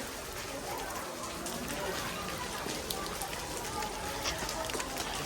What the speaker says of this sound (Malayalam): ഞങ്ങൾ ആഗ്ര ഫോർട്ടി വന്നു കഴിഞ്ഞപ്പോഴത്തേനും ഭയങ്കര മഴയായിപ്പോയി